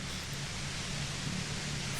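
A steady hiss of white noise plays as a sound effect in the video game Disco Elysium, a faint, even static wash with a low hum beneath it and no other sounds on top.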